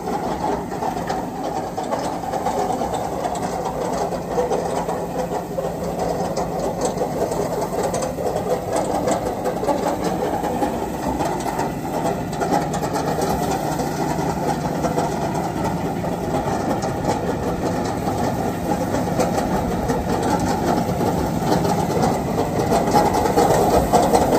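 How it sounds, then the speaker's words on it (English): A Tomahawk bale processor on a garlic farm spins its tube to tumble a round bale, giving a continuous steady mechanical drone and rumble with a rhythmic whirr, loud and unbroken for the whole stretch. "So now he can make that whole yellow tube there spin, which just kind of moves the bale around and pushes it in"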